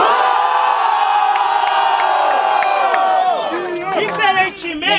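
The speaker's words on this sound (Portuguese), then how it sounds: "Quem gostou das rimas do Guinho faz barulho" A large crowd at a rap battle roars and cheers loudly and continuously, with whoops rising above the mass, fading into scattered shouts at the end.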